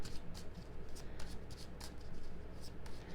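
Tarot cards shuffled by hand in a steady run of soft, papery riffles and flicks, close and fairly quiet, with no talk.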